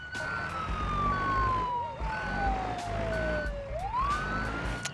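A police siren in the BeamNG driving game wails loudly and steadily, its pitch sliding slowly downward before sweeping back up, with a low engine rumble underneath and no talking.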